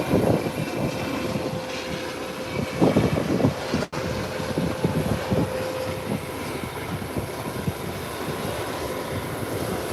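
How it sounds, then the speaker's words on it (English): A landed airplane taxiing along the runway after touchdown, a continuous loud engine roar and rumble with a steady whine, heard at moderate distance without talk. "it's now taxiing down the runway"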